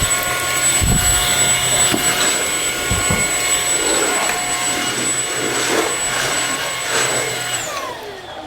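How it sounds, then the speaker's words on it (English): A cordless battery vacuum cleaner runs steadily with a high, whining motor hum close by, its tone shifting slightly as it moves before winding down at the end. "Best little vacuum ever."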